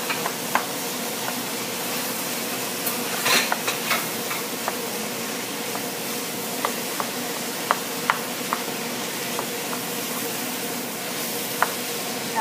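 Two pounds of ground beef sizzling in a pan while being broken up, a steady soft hiss with scattered light clicks and scrapes of the utensil, heard up close without voices.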